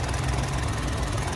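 A 2022 Toyota Raize with a 1.2-litre engine idles under the open hood, a steady, close, even rumble with a faint rhythmic pulse and no voices.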